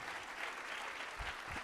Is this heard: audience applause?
yes